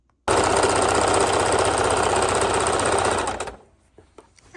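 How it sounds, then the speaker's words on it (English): A sewing machine stitches around the top edge of a quilted book bag, a loud, steady run of rapid stitching that holds for about three seconds before slowing and stopping, followed by faint handling clicks. "And I'm sewing around the top edge."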